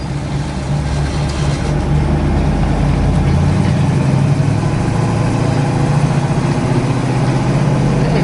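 A 1968 Chevrolet Camaro with a Powerglide automatic and 3.08 rear gear rumbles steadily as it pulls away through traffic, a loud, continuous low engine drone close to the microphone.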